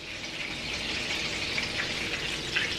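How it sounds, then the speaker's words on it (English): Turkey burgers frying in a skillet give off a loud, steady, close sizzle. The crackle and spatter run continuously with no pause. "I added the burgers to the skillet, and I'm just going to let them cook on each side until they're nice and brown"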